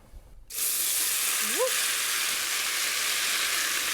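Frozen mixed vegetables hit a hot pan for paella, setting off a steady, loud hiss that begins abruptly and holds evenly throughout, with a brief rising vocal-like squeak partway in.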